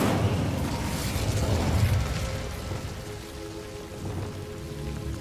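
A fire spell erupts in the video game Hogwarts Legacy as a rushing, crackling burst of flame, loud at first and then settling into a dense hiss with fainter pops, no voices heard.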